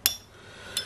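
Two sharp metallic clinks sound close together as metal Beyblade spinning tops collide in a battle against a Zero-G top. The clinks are brief and bright, with quiet room tone between them and no talking.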